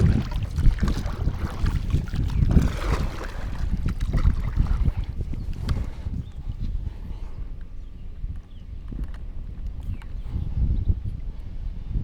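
Strong wind buffets the microphone outdoors near weedy, lily-covered water, a steady loud roar that gusts harder early on and then eases a little.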